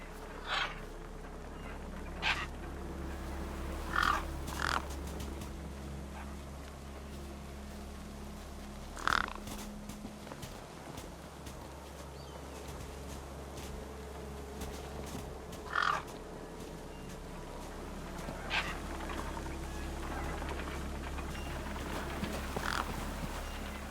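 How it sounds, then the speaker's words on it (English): Crows in the video game Beyond a Steel Sky feast on a body, letting out sharp caws at scattered intervals over a steady low ambient hum. "No way I was going to get between those birds and their feast."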